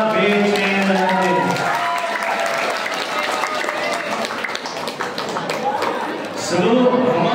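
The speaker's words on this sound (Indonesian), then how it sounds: "kami mohon penonton berikan tepuk tangan untuk regu A, B, C, dan D" An audience applauds teams A, B, C and D at the final of an Islamic quiz competition held by a women's religious study group. The steady clapping and crowd noise fills the middle, with a voice speaking at the start and end.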